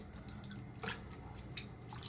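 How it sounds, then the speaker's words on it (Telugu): Water is poured over half a kilo of flattened rice (poha) to wash it, a faint close trickle with soft drips and a brief splashy burst. "ఇలా వాటర్ అంతా అటుకుల్లో పోయాలి"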